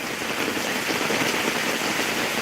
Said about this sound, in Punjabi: ਉਹ ਜ਼ਿਆਦਾ ਤੇਜ਼ ਆ ਮੀਂਹ